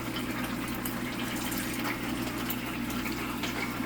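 Vinegar pours into a sauce for air-fried orange chicken, a steady close liquid trickle over a constant low hum from the kitchen, with no talk.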